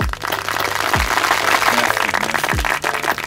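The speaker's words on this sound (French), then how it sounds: "je te propose d'applaudir le deal de Maman Dena avec son nouveau label" An audience at a French rap-industry talk show applauds steadily for a few seconds, a dense wash of clapping with some low thumps underneath.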